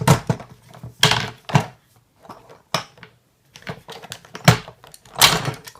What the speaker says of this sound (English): So if you pull it open,